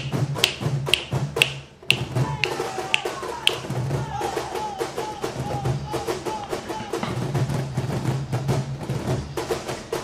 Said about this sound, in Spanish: está haciendo solo con los cajones.